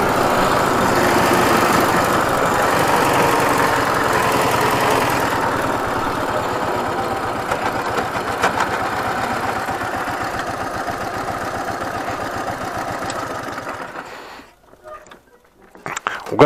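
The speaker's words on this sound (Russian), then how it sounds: "Угасает мотор, не едет мотор." A motorcycle engine runs steadily at a low rumble, then sputters and cuts out near the end, leaving near silence with a few faint knocks.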